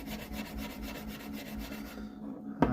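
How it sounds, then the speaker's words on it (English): Steel wool scrubbing crud off an Irish 8, a steady close rasping rub for about two seconds, then a pause and a single sharp knock near the end. "use some steel wool, right, to try and get the rest of the crud off"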